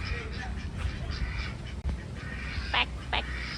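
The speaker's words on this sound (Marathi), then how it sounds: "काय इथे बदक आहे." Ducks quack at a roadside eatery, a couple of sharp bursts standing out late against steady outdoor background noise, with people chatting nearby.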